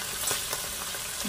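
Mushrooms drop into sizzling olive oil in a pan of garlic shrimp, giving a steady, dense, close frying hiss with faint stirring scrapes throughout.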